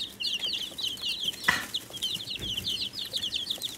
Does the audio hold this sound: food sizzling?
no